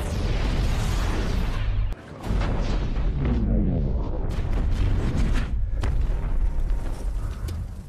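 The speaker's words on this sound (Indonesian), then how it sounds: "Rudal-rudal canggih buatan Stark Industries yang bernama rudal Jericho akhirnya diluncurkan" Jericho missiles in the Iron Man film launch and detonate in a dense, roaring barrage of booms and rumbling blasts, loud and sustained with a brief drop near the start.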